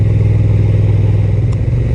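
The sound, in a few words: Honda NT 1100 DCT twin-cylinder motorcycle engine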